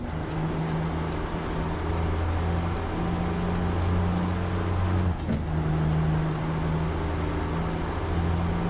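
A heavy truck engine in American Truck Simulator drones steadily at low RPM, loud and continuous, with a brief hiss partway through and no talk over it.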